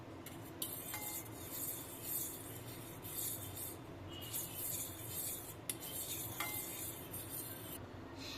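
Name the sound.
mixing milk into sponge pudding batter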